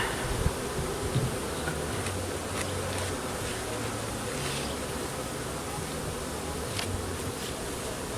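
Honey bees buzz steadily around an open hive during an inspection, a dense continuous drone with occasional louder passes near the microphone and faint handling noises.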